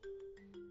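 A mobile phone ringtone plays a short melodic phrase for an incoming call from a father, heard clearly and alone for under a second.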